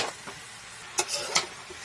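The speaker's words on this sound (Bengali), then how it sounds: "ভালো করে ভেজে নেব" Mixed vegetable baji with cumin powder, chili powder and meat masala frying in a pan, a soft steady sizzle broken by a few sharp stirring scrapes, close and alone.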